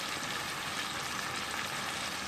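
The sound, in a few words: chicken frying with spices in a pan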